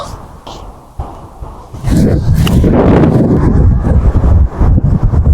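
Strong gusty wind on a golf course roars and buffets the microphone, quieter at first, then a loud sustained rush of wind.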